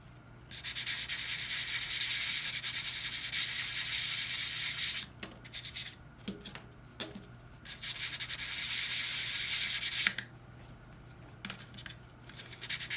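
Sanding sticks rubbed across a flat plastic scale model kit part, a close, steady scratchy hiss in two long passes separated by a few light taps and pauses.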